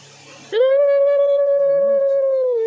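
A person imitates a dog with the voice, a long, sustained, wavering howl-like tone that starts after a brief bit of background noise and holds steadily to the end.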